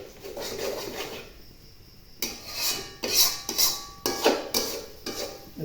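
Metal utensil clinks and scrapes against a pot while beef curry spices are stir-fried in oil, a series of sharp clatters in an irregular rhythm, close and fairly loud, with no talk.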